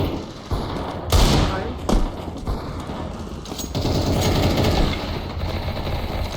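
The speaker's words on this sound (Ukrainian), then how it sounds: "Він ухилився від моїх всіх патронів." Rapid bursts of Counter-Strike gunfire, thumping shots and rattling fire, over a continuous background of game noise.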